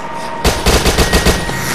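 SMG fire in the video game Dead Nation comes as a rapid burst of about seven loud, punchy shots in quick rhythm, starting abruptly after a short quiet lead-in.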